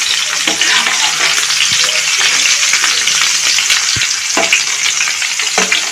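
Masala-coated egg skewers sizzling in a frying pan of oil as they are slowly turned over, a steady near crackle broken by a few soft knocks of the sticks against the pan.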